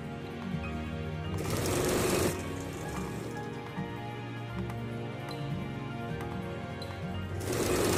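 An electric sewing machine stitching Patiala salwar fabric in two steady whirring runs, one at the start and one near the end, with a quieter mechanical hum between them; close and fairly loud, with no talking.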